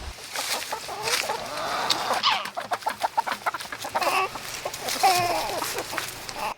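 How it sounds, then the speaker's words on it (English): Several chickens cluck and chatter nearby in quick, uneven bursts as they eat, with soft pecking and scratching sounds between calls. "watch how much the chickens are gonna enjoy eating it"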